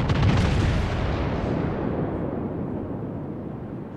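Naval artillery fire from the battleship Thunderer in a video game, firing armour-piercing shells: one loud, heavy booming salvo that rolls and decays over about four seconds.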